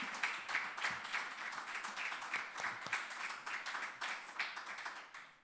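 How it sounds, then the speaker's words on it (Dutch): An audience at the 2023 Maduro lecture event in Amsterdam Zuidoost applauds, a steady, even patter of many hands clapping, fairly faint and distant, with no talk over it. "Ik wil een applaus graag voor Dominika Gilday."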